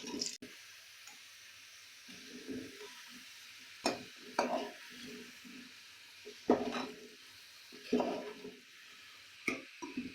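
Tinda (apple gourd) pieces fry in a pan over low flame, with a soft, quiet sizzle broken by stirring and clinks of a spoon against the pan.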